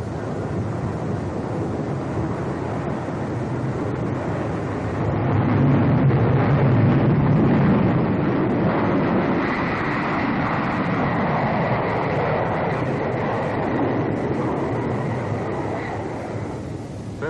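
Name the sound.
jet engines of Boeing B-47 Stratojet bomber, throttle opened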